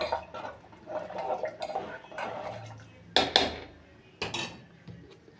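Metal spoon stirring sambar with tamarind in a pot, scraping and clinking against the metal in a steady run of soft strokes, with two sharper clanks partway through, close by and fairly loud.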